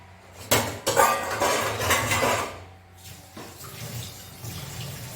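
Dishes clatter and clink under a steady stream of running tap water, close by, with several sharp knocks early on before the washing settles into softer rinsing.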